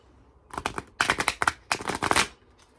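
Playing cards being shuffled up close, three quick riffling bursts of fluttering clicks separated by short pauses.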